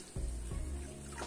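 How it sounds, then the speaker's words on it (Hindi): Chilled, previously boiled water pours into a vessel for a besan snack batter, giving a steady, soft splashing flow with a couple of small bumps at the start. "पानी को मैंने अच्छे से बॉईल करके फ्रिज में लगा दिया था और इस तरह से हम डाल देंगे"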